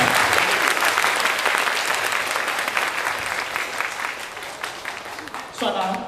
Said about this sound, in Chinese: 都鼓掌了，大家都同意嘛